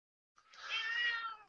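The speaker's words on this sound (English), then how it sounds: "Is there a cat in here?" A single drawn-out cat meow rises after a short silence, clear and fairly near, fading slightly at the end in an otherwise quiet room.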